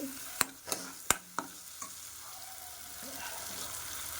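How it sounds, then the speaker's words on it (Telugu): Tomatoes frying in a pan for a colocasia (taro root) kurma give a steady soft sizzle, broken early by several sharp clinks of a spoon stirring against the pan. "బాగా వేగే వరకు వెయిట్ చేద్దాం మనం. ఇది చూడండి, మనకి టమాటా అది కూడా చాలా నీట్గా వేగిపోయిందండి."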